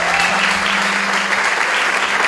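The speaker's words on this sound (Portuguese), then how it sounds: "Você pode aplaudir a Jesus pela vida da Sara?" A church congregation applauds in a loud, steady wash of clapping that fills the room, with a low sustained tone running underneath.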